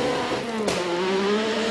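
A two-wheel-drive rally car with a V6 engine on a forest stage, heard as a loud, steady engine note that sharpens briefly midway before holding on at high revs.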